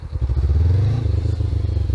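A motorcycle engine rises as the throttle is opened very gently, a loud, close rumble swelling briefly then settling into a steady low running beat.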